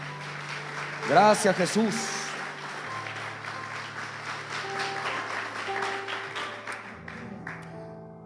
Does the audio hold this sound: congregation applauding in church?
yes